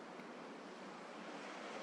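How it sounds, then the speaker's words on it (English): Ocean waves breaking far below, a steady, soft wash of surf with no distinct individual crashes, heard alone without voices. "You might also become aware of the sound of the ocean below"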